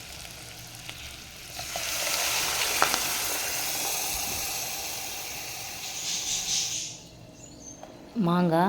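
Curry leaves fry in a pan with a steady sizzle before tamarind fish curry liquid is poured in, and the hiss softens and settles. A voice speaks briefly and a bird-like tone sounds near the end.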